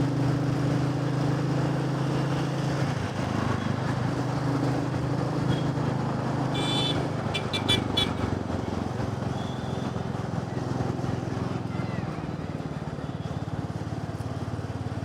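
Steady Royal Enfield motorcycle engine drone while riding at moderate pace, a continuous low rumble mixed with wind noise, with a brief burst of higher clatter midway.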